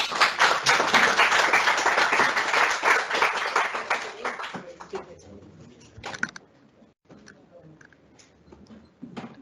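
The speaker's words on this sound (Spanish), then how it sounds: "Pido para ella un aplauso para iniciar" An audience at a family-medicine conference in a clinic claps in a dense burst that thins out after about four seconds into scattered, fading claps.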